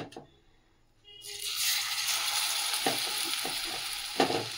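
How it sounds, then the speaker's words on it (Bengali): Small tapse fish fry in hot oil in a kadai: after a quiet start, a loud, dense sizzle rises suddenly and holds steady, with a few scraping stirs and light clinks, and no talking. "আর এবারে তোপসে মাছটাকে ভেজে নিচ্ছি।"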